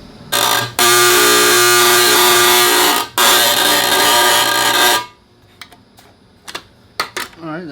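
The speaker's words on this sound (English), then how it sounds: "so let's take this to the demagnetizer" An electric demagnetizer buzzes loudly and steadily on a Wahl Arco 5-in-1 clipper blade for about four seconds, cuts out briefly, resumes, then stops, leaving a few faint clicks and handling sounds.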